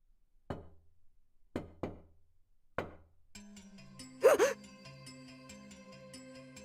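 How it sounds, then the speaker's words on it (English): Knocking at a door in the Chaos;Child visual novel game, four sharp, close knocks spaced about a second apart in near silence, then a sudden gasp-like burst over rising background music. "Suddenly, there was a knock at the door."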